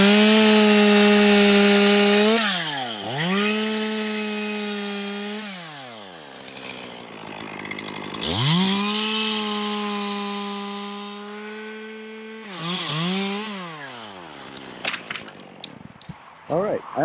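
A chainsaw cuts through the branch hinge of a dead tree, its motor whining high during two long cuts and falling between them, close and loud, with short bursts near the end.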